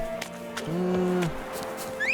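A horse in The Witcher 3 gives a short, fairly close neigh over a steady game ambience, with faint rustling and a brief bird-like chirp near the end.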